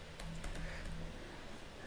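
Typing code on a computer keyboard, a few scattered light key clicks in an uneven rhythm, close but soft over a steady low background hum.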